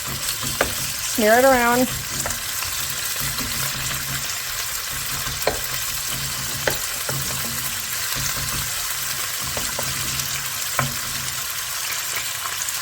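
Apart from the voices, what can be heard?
thin chicken pieces frying in oil on high heat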